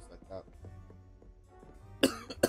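Two short, close coughs burst out near the end after a stretch of quiet low background murmur.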